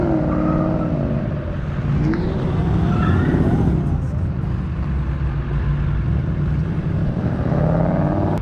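A Ford Shelby at a car meet revs hard and slides, the engine rising and falling in loud close bursts amid crowd noise and nearby chatter.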